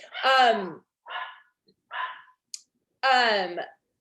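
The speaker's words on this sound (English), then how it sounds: "my neighbor just came over and the dog barks at him" A dog indoors barks at a neighbor who has just arrived, four loud, close barks separated by short silences.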